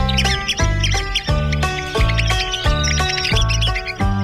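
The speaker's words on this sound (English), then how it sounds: "That's the agitated call of the red-cockaded woodpecker." A red-cockaded woodpecker giving its agitated call: loud, close, rapid repeated harsh chirping notes in a steady rhythm of quick bursts, sustained throughout without pause.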